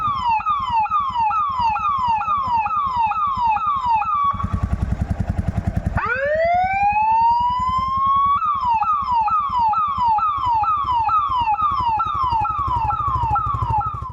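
A fire service quick response bike's electronic siren wails loud and close, cycling rapid yelps, breaking into a brief rumbling pause, then a rising wail before the fast repeating pattern resumes.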